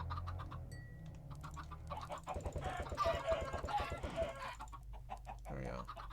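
Backyard chickens clucking and squawking in a busy, overlapping flock, close and fairly loud, with some rhythmic scratching or tapping sounds mixed in.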